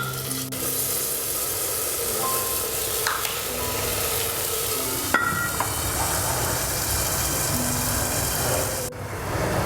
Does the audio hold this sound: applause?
no